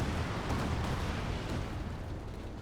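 An artillery barrage in the World War II strategy game Company of Heroes 2, a continuous low rumbling roar of blasts blending together, distant and fairly soft, with no distinct separate impacts.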